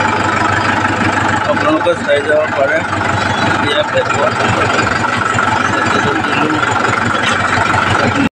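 A tractor engine drones steadily and loudly nearby as the vehicle carries people along, with someone talking over the continuous rumble throughout.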